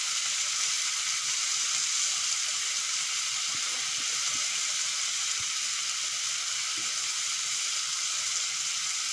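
A dosa fries in a pan, giving a steady, close sizzle and hiss that holds evenly throughout with no talk over it.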